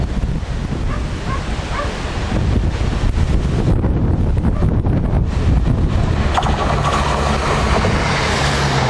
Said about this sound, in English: The wind nearly blew me over at that moment, so I didn't get the number.